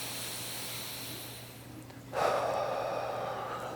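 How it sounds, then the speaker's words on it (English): A long, relaxed exhale during a hip and pelvic floor stretch, a soft hissing rush of breath that starts suddenly midway and carries on close to the mic over a quiet background hum. "So we need to relax our diaphragm, let all the air out. Really nice relaxed breaths."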